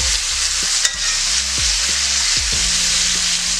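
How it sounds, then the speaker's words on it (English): Pork chops browning in a hot pan give a steady, loud sizzle with faint stirring and scraping, and no talk. "we got our pork chops cooking away there. We're just gonna flip them over."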